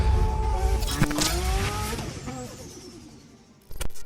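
A modified 1.6-litre turbo Skoda Fabia accelerates at full throttle up through the gears, its engine note climbing and dropping with each shift as it pulls away and fades, followed by a brief loud rush near the end.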